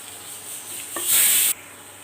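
Masala and shallots frying in a pan as they are stirred, a brief loud sizzling burst of about half a second standing out over quieter background hiss, close to the pan.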